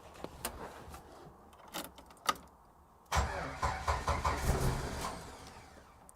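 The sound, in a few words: engine starting up in the shop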